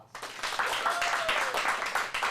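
A small audience at a kids' acting class claps in a short burst of applause, brisk and fairly close, lasting a couple of seconds.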